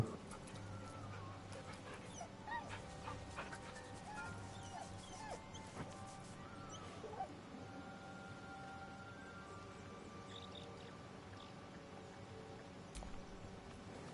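Dog barks and whimpers in a video game, faint and intermittent over a steady layer of game background sound and music.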